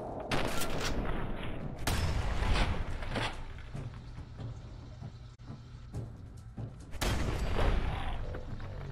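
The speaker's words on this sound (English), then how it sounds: "Shotgun." Shotgun blasts in Fallout 4, several heavy booming shots spaced a second or two apart, loud and close, with game background between them.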